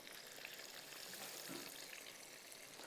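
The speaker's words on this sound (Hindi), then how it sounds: "यहाँ पर ये बर्गर्स भी फ्राई कर लेते हैं" Stuffed cheese chicken burgers fry in hot oil, a steady, even sizzle that crackles softly and continuously without any voices over it.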